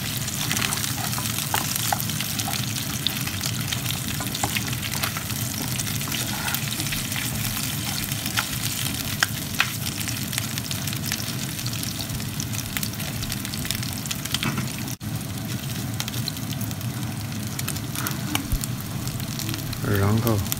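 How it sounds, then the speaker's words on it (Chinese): Pork ribs sizzle and fry steadily in a pan, a constant crackling hiss running the whole way through, with soft stirring or turning noises and a faint voice now and then. "我们把这边煎的排骨给它翻翻面，"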